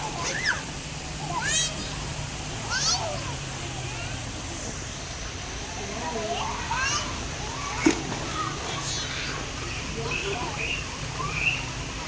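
Children splash and swim in a pool on a Kuala Lumpur holiday, with light sloshing and intermittent splashes running throughout, while nearby voices call out and chatter over the water.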